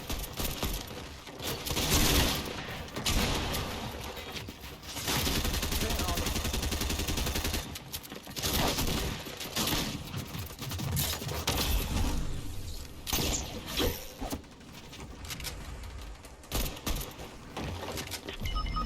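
Rapid gunfire bursts crackle in a Fortnite match, with dense volleys of shots and short pauses between them, fairly loud against game noise while a player talks at times.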